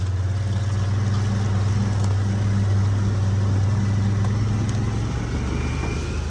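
A vehicle drives around a 600-acre Mississippi property, giving a low, steady engine drone that fades slightly near the end. No one talks.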